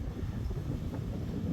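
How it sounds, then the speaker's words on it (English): Wind blows hard outdoors on a cold day, a steady low buffeting roar battering the microphone with no voices. "It is windy today"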